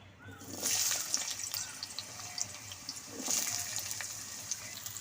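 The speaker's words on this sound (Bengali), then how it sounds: "আলুটা একদম লাল লাল করে ভেজে নেব" Potatoes fry in hot mustard oil in a wok with a steady, fairly soft sizzling hiss that swells twice and carries faint crackles throughout.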